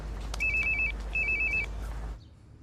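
A telephone rings in two short electronic bursts, close and clear over a low steady hum, then falls silent, in an indoor scene from a French TV drama series.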